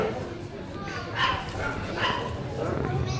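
A protection dog in IPO working trials barks at the helper during the guarding phase, giving a few sharp, loud barks at a steady rhythm close by.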